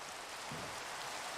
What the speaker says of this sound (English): It's starting to rain.